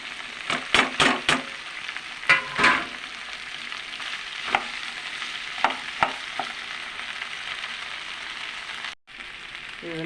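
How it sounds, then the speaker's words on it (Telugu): Okra pieces frying in a pan after chana dal and garlic, a steady close sizzle broken by sharp scraping and clattering stir strokes, busier at first and then settling, no talk. "బెండకాయ ముక్కలు వేసేద్దాము"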